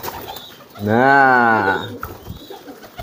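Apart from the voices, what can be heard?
pigeon cooing while courting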